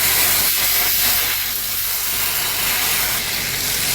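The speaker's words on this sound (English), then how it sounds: "After the sugar has dissolved, we're going to add 1 tablespoon of butter. And very carefully give this a stir." A tablespoon of butter is stirred into hot dissolved sugar in a pan, giving a loud, continuous steamy sizzle and hiss that eases slightly but keeps going throughout.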